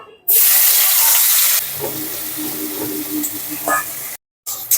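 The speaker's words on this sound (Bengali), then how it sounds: "এই তেলে আমি পেঁয়াজ দিয়ে দেবো" Onions hit hot oil with a sudden loud hiss that quickly settles into a steady, close sizzle and frying crackle, with a few soft stirring scrapes before a brief cut.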